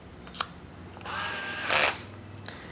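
A Tekiro CD-HD2047 12V cordless hammer drill spins up at speed 1 with a high, steady whine lasting about a second, close and loud, between small clicks of the trigger and handling.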